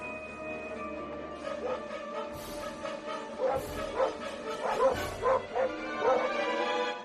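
Dogs yelp and whimper in short bursts, a few excited barks rising over soft background noise.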